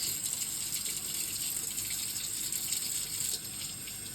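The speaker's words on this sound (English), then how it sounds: "you give this a good wash out" Tap water runs steadily over parts of a Shark HydroVac vacuum being rinsed clean in a sink, a continuous close gushing splash with no talk.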